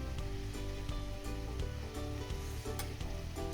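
Bottle gourd greens with sesame-poppy paste stir-fry in a pan, a steady close sizzle with soft stirring running throughout beneath tonal background music.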